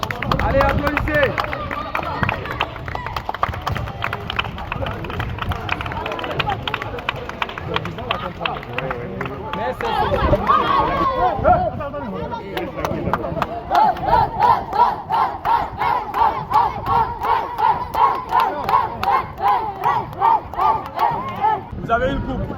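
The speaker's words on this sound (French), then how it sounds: "Allez, applaudissez!" Children at a school sports match in Guinea clap and cheer together in a loud, rhythmic burst, shouting over chaotic crowd noise before falling into steady unison clapping.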